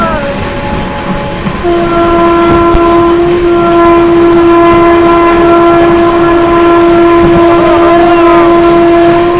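A train horn blares continuously for several seconds over the loud rumble and rush of an Amrit Bharat Express passing close by at 110 km/h through Khurja Junction without stopping.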